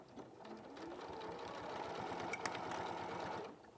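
A sewing machine stitching a quarter-inch seam along the side of a fabric shopping bag runs in a steady, fast, even mechanical whirr, quiet and close, with no talk over it.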